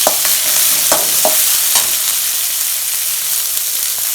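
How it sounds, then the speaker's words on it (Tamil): Chopped large onions sauté in a hot pan for a plantain (valakkai) poriyal, giving a steady close sizzle broken by a few soft scrapes from stirring. "பெரிய வெங்காயம் கட் பண்ணி வச்சுருக்கேன், அதையும் போட்டுக்கலாம். போட்டு கொஞ்சம் நல்லா வதக்கிக்கலாம்."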